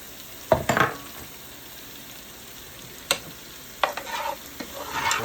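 Lemon juice marinade poured into a hot pan for stovetop sriracha chicken and shrimp, giving short bursts of sizzling and stirring scrapes that come and go between quiet pauses.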